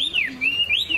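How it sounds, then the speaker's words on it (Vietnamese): A Chinese hwamei songbird, kept in a cage for over two years, sings close and clear. It gives a quick run of bright, sliding whistled notes that rise and fall in pitch. "Chim cao cầu đẹp hot tốt."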